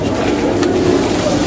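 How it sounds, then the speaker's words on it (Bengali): Jalali pigeons coo steadily at the shrine of Hazrat Shahjalal, a close, continuous low burbling of many birds at once. "জাকে জাকে কবুতর মাজার জুড়েই রয়েছে।"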